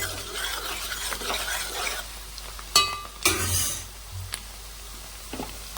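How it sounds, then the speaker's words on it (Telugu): Chicken curry goes into a pan of frying onions, making a low sizzle under scraping and clinking stirring sounds, with a few sharp clatters midway; no talk. "ఇప్పుడు కూర ఉల్లిపాయలు వేగిపోతుంది. చక్కగా కూర వేసేద్దామండి."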